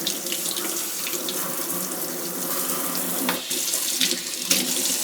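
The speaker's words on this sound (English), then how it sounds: "I gotta wash my hands because I touched raw meat." A kitchen tap runs steadily into the sink while hands are washed after handling raw meat, a close continuous gush with a few splashes and small knocks, no talking.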